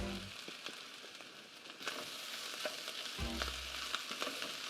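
Egg frying in a hot pan of king prawn fried rice, a soft continuous sizzle with light crackles and a brief low clunk partway through, heard alone without talk.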